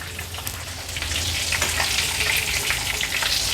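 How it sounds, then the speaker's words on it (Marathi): Prawns frying in hot oil for an Agri-Koli style prawn thali, a steady dense sizzle with a faint low hum underneath that grows slightly louder partway through and holds, close and continuous with no talk. "अगदी व्यवस्थित मागची बाजू देखील तळून झाली आहे"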